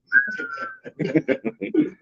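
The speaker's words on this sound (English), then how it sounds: "I'm gonna point and whistle." A person whistles a long, steady note, then a string of short chirpy whistled notes in a quick, uneven rhythm, close and clear.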